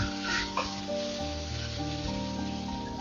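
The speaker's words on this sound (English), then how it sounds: "After a minute of cooking, I'm going to stir it and cook this for about another 4 to 5 minutes." Pork and mushroom stir-fry sizzling in a pan under a steady background hum, with a faint stir or two near the start, quiet and close.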